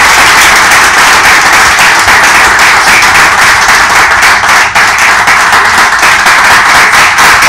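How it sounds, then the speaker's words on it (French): Studio audience on a Congolese political debate show applauds steadily and loudly throughout, a dense continuous wash of clapping with no talk over it. "je vous demande d'abord d'applaudir un peu Madame Marie-Josée Ifoku."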